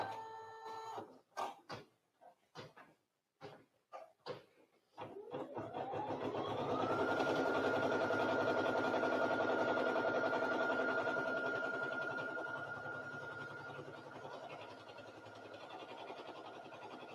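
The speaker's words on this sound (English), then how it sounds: "Let's begin stitching. I'll lower the presser foot and then press the start button." A computerized sewing and embroidery machine at a quilt festival, a few clicks and taps, then a motor whirring up into a steady loud stitching hum that holds for about ten seconds and eases slightly.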